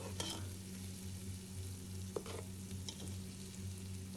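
Kofta curry masala sizzling in a pan while being stirred, a constant low frying hiss with a few soft scrapes and knocks of a spoon, under a steady background hum.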